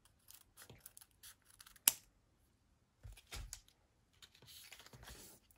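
A taped package being opened: scattered crinkles, tearing and scraping of tape and packaging, one sharp snap, then a longer rustling tear, close and fairly quiet with no talking.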